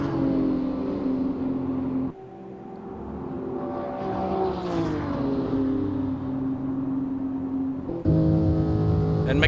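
GT3 race cars, a Ferrari and a BMW, racing at Spa in a 24-hour sim racing event, steady loud engine drone with rising and falling pitch as gears shift, continuous throughout.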